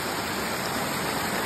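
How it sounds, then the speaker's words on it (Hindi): Patna Waterfall near Neelkanth Road in Rishikesh, a steady, loud rush of falling water filling the whole moment with dense, unbroken roar and no voices. "ये देखो ये है वाटरफॉल का पानी"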